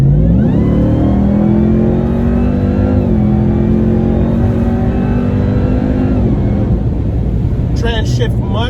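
A Ram TRX pickup truck tuned past 700 wheel horsepower accelerates hard in custom mode, its engine revving loud and rising in pitch through quick gear shifts, with a driver talking over the roar.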